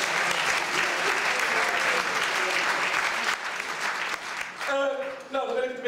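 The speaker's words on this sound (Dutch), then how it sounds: "geef ze nog maar een applaus hoor" A Dutch audience at a gathering claps warmly, dense sustained applause filling the room for several seconds before thinning out as a voice begins talking near the end.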